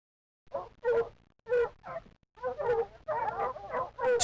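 Dogs bark in a video-game fishing outing, several loud yelping barks in irregular bursts, close and clear, with brief pauses between them.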